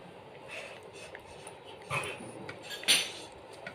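A dog laps and licks at a bowl, with soft wet tongue sounds and a couple of sharper clinks against the dish, close by.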